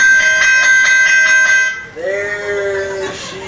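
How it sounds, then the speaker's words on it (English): A bell rings in a quick run of bright repeated strikes to call tiger cubs inside for training, followed by a higher wavering tone, loud and close. "we use a bell to call them inside for training"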